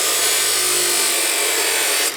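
Continuous harsh rasping of a metal U-bolt being cut through, a steady close abrasive grind lasting a couple of seconds before it stops abruptly.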